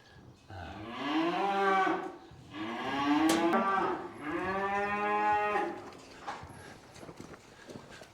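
Cows mooing while scrapping, one being a cow with a prolapse: three long, loud, drawn-out moos close by in succession, followed by quieter shuffling and hoof sounds, no talk.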